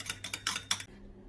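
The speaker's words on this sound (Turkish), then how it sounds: "Hepsini iyice çırpacağım ve börekler üzerine süreceğim arkadaşlar" Vegetable oil mixture being whisked in a bowl for brushing over börek: about four quick metallic clinking strokes in a brisk rhythm, close and fairly soft, then near silence.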